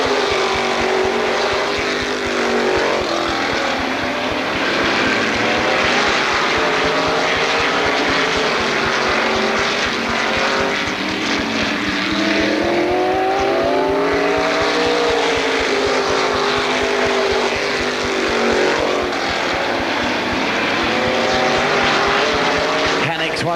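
NASCAR Weekly Racing Series stock cars race at Lorain County Speedway, loud engines droning and rising and falling in pitch as the cars pass close and sweep around the oval, with a race announcer talking over the noise.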